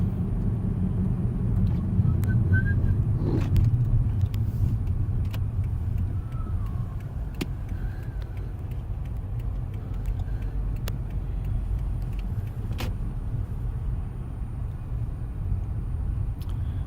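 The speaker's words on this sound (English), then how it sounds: "So many cars." Cars passing on a residential street at night during a Christmas lights drive, heard from inside a moving vehicle as a steady low rumble of road and engine noise with occasional faint ticks, no talking.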